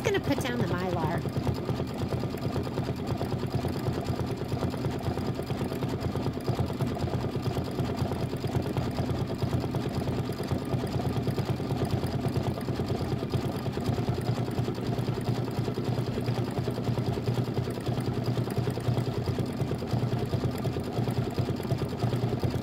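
An embroidery machine stitches the large star placement lines for block one of a Kimberbell Nativity bench pillow, its motor humming and needle chattering in one unbroken, even run.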